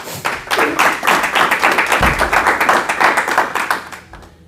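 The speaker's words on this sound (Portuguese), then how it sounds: "Salva de palmas para Jesus." Church congregation clapping together in a steady, rapid rhythm, loud and close, filling the room for several seconds before tapering off at the end.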